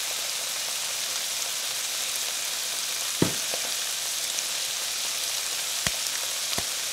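Pork chops fry in butter in a pan with a constant close sizzle, broken by a few sharp pops and spatters now and then. No voice is heard.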